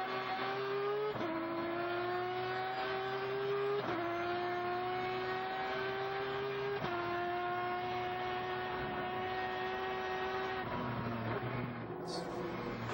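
A Mazda race car engine drones at high revs at Daytona International Speedway, then drops sharply in pitch several times as gears shift down, including a mismatched downshift, heard steadily from onboard.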